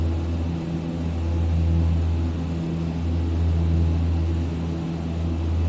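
Sim cockpit drone of a Saab 340A turboprop in X-Plane 11 during hand-flown departure from Telluride: steady loud propeller and engine hum with strong low tonal bands and a high whine, constant throughout, no voices.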